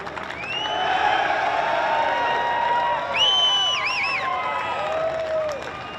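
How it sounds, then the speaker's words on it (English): Crowd cheering and applause for the 2019 Oceania Rugby Under-20s Championship winners at a stadium, a sustained roar of voices with whoops and whistles rising over clapping. "A round of applause, ladies and gentlemen, the winners of the 2019 Oceania Rugby Under-20s Championship."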